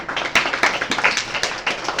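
A small audience claps in a brief burst of sharp, irregular hand claps, fairly close and moderately loud, with no voices over it.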